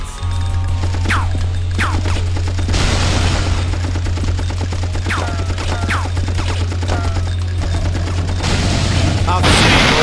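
Heavy gunfire and booming blasts in the PS1 game Apocalypse, Graveyard level, pound away loudly and continuously alongside a steady low drone, with whistling tones and sharp crashes over the shooting.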